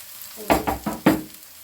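Peppers and garlic are stirred into a pan of caramelized onions and carrots, giving a close sizzle with four distinct scraping stirs, each surging then settling into steady frying.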